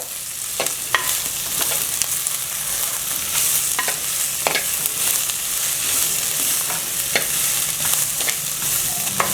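Green chili and sliced small onions frying in oil while being stirred, a steady loud sizzle broken by repeated sharp scrapes and clicks of the spoon against the pan, without any voices.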